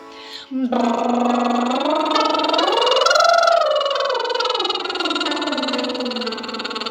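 A voice does a buzzing lip trill, the lips flapping while the pitch slides up and down in a smooth arc, held continuously and close.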